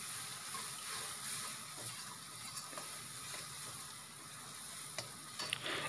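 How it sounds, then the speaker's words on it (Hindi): Chopped tomatoes for egg bhurji cook down in a pan with a faint, steady sizzle, broken now and then by soft ticks of stirring, quiet and close with no voices. "अच्छी तरीके से आपको टोमेटो को गलने तक पका देना है।"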